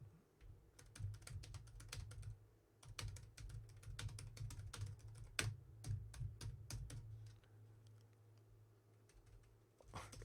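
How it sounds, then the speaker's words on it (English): Rapid, uneven clicking of keys on a computer keyboard, close and fairly quiet, continuing steadily with brief pauses. "I suck at typing."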